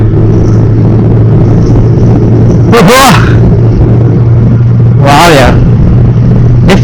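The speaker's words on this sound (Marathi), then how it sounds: "आता गेली गाडी आपली स्पोर्ट्स मोडला" A motorbike on an open road toward Morbe Dam switches into sports mode: a steady engine drone runs throughout, with two loud rising surges as it accelerates.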